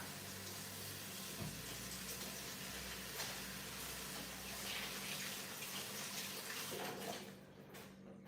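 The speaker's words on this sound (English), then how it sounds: "So I wash my hands." Hands are washed under a running tap, with a continuous, fairly loud rush of water splashing into a sink that eases off slightly at the end.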